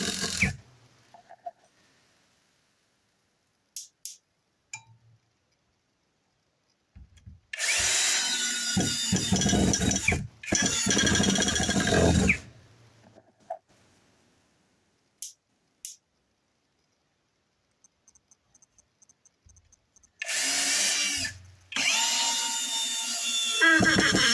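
Grosser GCD 16/42 cordless drill driving screws into wood in three loud, sustained whirring bursts of a few seconds each, separated by quiet gaps with scattered short clicks and small taps.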